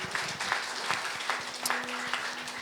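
Congregation at an Indonesian church service claps briefly, a soft, uneven patter of hands heard at a distance with a faint hum underneath.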